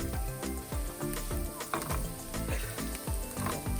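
Vegan mince sizzles in a pan while making vegan chilli, a continuous frying crackle with rhythmic scraping and stirring strokes repeating every half second or so at close range.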